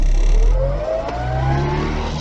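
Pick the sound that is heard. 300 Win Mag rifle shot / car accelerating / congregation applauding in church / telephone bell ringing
car accelerating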